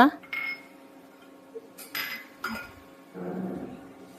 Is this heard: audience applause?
no